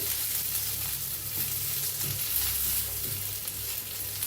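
Green chili chutney with cumin and coriander fries in a pan while being stirred, a dense steady sizzle and crackle with soft scraping stir sounds running continuously and close.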